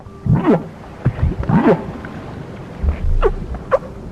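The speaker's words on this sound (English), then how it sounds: "Humpback whales are moans." Humpback whale moans rise and fall in several separate calls, some sliding upward into higher whoops, spaced irregularly over a low rumbling underwater background.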